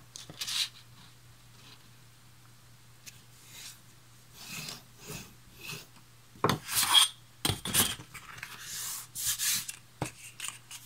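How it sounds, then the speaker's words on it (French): A bone folder run along a ruler creases a 3 cm paper strip, giving scattered rubbing and scraping strokes, a few louder bursts among quieter scratches, close up, with no voices. "Je commence par marquer le pli dans les 3 cm de cette bande."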